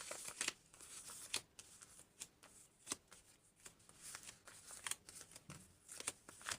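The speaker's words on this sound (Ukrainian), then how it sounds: "А ось такі у нас пакетики на розпаковку." Close, quiet crinkling and rustling of thin plastic comes in irregular bursts, like packets being handled and opened.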